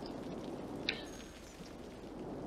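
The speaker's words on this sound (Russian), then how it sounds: "То есть дождь очень сильный." Heavy rain in the city-building game Cities: Skylines, a steady dense hiss of falling water with no talk over it.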